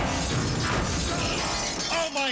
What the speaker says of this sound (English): They just smashed the piano.